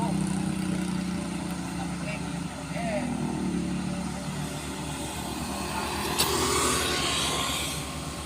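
A heavily loaded truck grinds up a steep incline in its lowest gear, its engine giving a steady, labouring roar with low rumble throughout and a brief sharper burst near the end.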